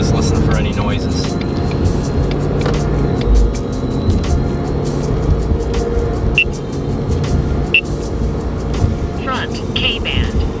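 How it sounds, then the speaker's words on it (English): A Ford Mustang drives along with its exhaust set to quiet mode, a steady low engine and road rumble running continuously close by, with faint clicks and rattles over it. "I got the exhaust in quiet mode, so you can just listen for any noises."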